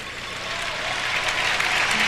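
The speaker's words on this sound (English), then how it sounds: "Again, it's somewhat tepid applause." Modest audience applause fills an arena after a figure skater's short program at the 2002 Olympics, a steady wash of many hands that swells slightly and continues without letup.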